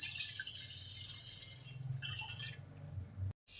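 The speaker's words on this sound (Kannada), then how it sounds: "ಒಂದು ಲೋಟ ನೀರು ತೊಗೊಂಡಿದ್ದೀನಿ ಇವಾಗ ಪಾತ್ರೆಗೆ ಹಾಕ್ತಾ ಇದ್ದೀನಿ" A glass of water pours and trickles into a pot close by, a soft splashing stream that ends abruptly with a brief clink.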